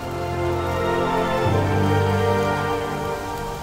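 Steady rain falling continuously in the Scottish Highlands, a dense broadband hiss with a faint low rumble swelling midway; no voices.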